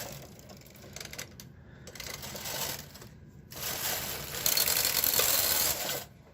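A knitting machine carriage slides across the needle bed as needles kick out while mittens are knitted, giving a continuous mechanical whirring and clattering swish that swells and fades in passes, close and moderately loud, with no talk.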